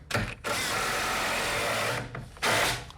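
A power drill drives 3-inch screws into shower wall framing in three whirring bursts: a short one, a long sustained run, then a brief final spin, all close and loud.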